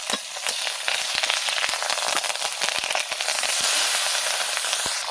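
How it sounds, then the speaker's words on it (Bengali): Hilsa fish pieces frying in hot oil in a covered pan, giving a steady loud sizzle with dense rapid pops and crackles throughout. "মাছগুলো ফুটতেছিল, ফটফট করে ফাটতেছে, ওই জন্যে ঢাকনা দিয়ে দিয়েছি।"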